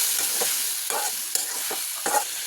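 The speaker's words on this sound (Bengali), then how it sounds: "এখন ভালো করে নাড়াচাড়া দিয়ে দেবো" Tilapia curry with chili powder stirred in a hot pan: scraping strokes of a spatula about every half second over a steady oily sizzle, close and fairly loud, with no voices.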